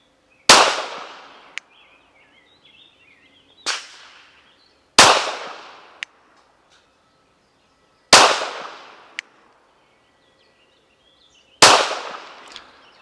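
Five pistol shots at an outdoor shooting range during a test of an OSight SE optic, each a sharp close crack spaced a few seconds apart, with a faint metallic ping after each and quiet between.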